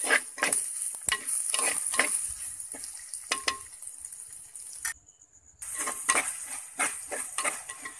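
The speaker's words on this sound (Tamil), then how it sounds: "வெங்காயத்தை சேர்த்துட்டு நல்லா வதக்கி எடுத்துக்கோங்க." Onions with ginger and garlic sauté in a pan for a fish head curry, giving a soft continuous sizzle broken by scraping spoon strokes and clinks, with a brief quiet gap partway through.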